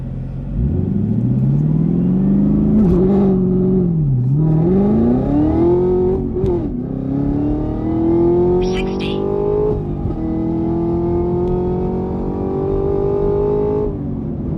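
A Chevrolet Camaro ZL1 accelerates hard along a road, its loud engine climbing through the gears with a few quick shift breaks before the pitch rises steadily again, close and powerful.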